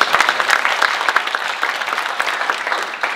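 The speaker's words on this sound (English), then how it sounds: "Let's give him a round of applause." An audience at a baseball coaching talk gives a short, lively round of applause, close and fairly loud, with dense overlapping claps that ease off slightly near the end.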